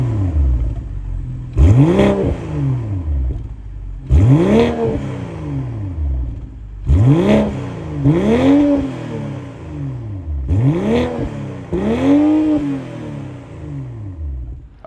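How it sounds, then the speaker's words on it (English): 2024 BMW M340i with a 3-liter B58 turbocharged inline-six revving in five sharp blips, each rising and falling quickly, separated by short idle gaps, loud and close. "let's fire up this 2024 BMW M340i and hear how this 3-liter B58 inline 6-cylinder turbo sounds"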